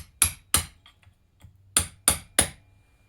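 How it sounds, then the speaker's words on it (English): Hammer blows on a chisel bending a locking tab on a Yamaha Big Bear 350 ATV clutch: five sharp metallic strikes, two quick ones then three more after a pause, close and loud, plus a few faint taps. "we're going to take a chisel and get on the edge of this locking tab and bend this locking tab out"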